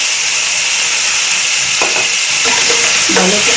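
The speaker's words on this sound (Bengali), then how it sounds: "টমেটোটা ভাজা ভাজা হয়ে গেছে, এখন কাঁকড়াটা এর ভেতরে ছেড়ে দেবো।" Crab pieces frying in a cooked-down tomato masala give a loud, close, steady sizzle and hiss, with clattering stir strokes and bursts of spitting toward the end.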